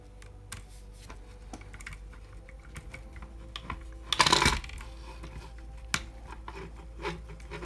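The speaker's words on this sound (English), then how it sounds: "So now that it's in, we just need to screw it down." Small regular screw being driven into the soft plastic of a Tamiya Rising Fighter RC car front damper, quiet close clicks and scrapes of the tool with a brief louder grinding burst midway.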